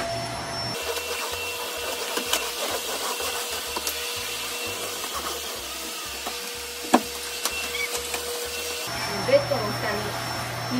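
A household vacuum cleaner runs steadily indoors during home tidying, a continuous loud motor drone with rhythmic pulsing and scattered bumps and rubs as it moves, starting and stopping near the ends.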